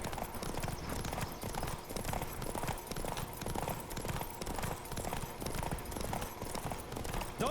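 A horse gallops in The Witcher 3, its hooves pounding in a quick, steady rhythm under a constant wash of game ambience, loud and close throughout.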